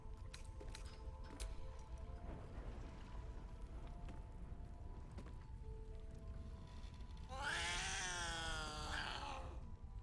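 A cat in Baldur's Gate 3 gives a loud, drawn-out meow near the end, rising and wavering for about two seconds over a steady low game hum. Purring is not clearly distinct beneath the ambience.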